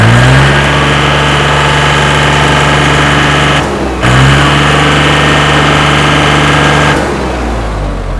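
A used Iseki NT540 tractor engine roars loud and close at high revs with a strong, steady drone, briefly dipping in pitch twice before climbing back up.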